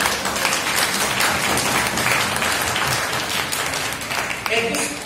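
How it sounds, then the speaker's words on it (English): Dense, steady clapping from young graduates at a Toastmasters orientation session fills the room for the full length, loud and continuous, with talk mixed into the crowd noise. "you should give yourself a round of applause for us"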